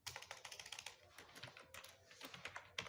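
Quick bursts of keystrokes on a computer keyboard while C code is typed, soft and fairly distant, clicking in uneven runs with short pauses between.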